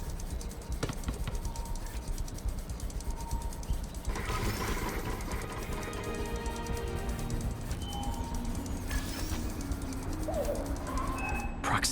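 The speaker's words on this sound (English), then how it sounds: "This pigeon's strong." A pigeon cooing on a New York street in Marvel's Spider-Man, soft repeated coos over steady city ambience and game background noise, with no voices.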